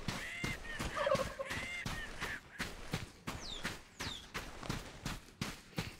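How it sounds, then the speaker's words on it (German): A turkey gobbles in the survival game Soulmask, its rough bursts repeating over footsteps and outdoor ambience, fairly close and alone without talk. "Ein Truthahn."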